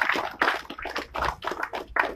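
An audience at a Melbourne blockchain meetup applauds the speaker Alex with a moderate, close round of clapping that comes in uneven, pulsing bursts.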